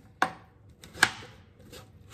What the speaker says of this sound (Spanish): Ahora cortamos el melón.